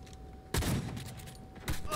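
Shotgun blasts in the video game Cyberpunk 2077, two heavy bursts about a second apart that cut sharply through quieter background game noise.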